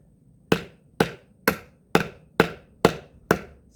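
Seven sharp, evenly spaced chopping impacts from a Halsforce knife blade striking through material, each a loud close crack with a quick decay, about two per second, with no talk.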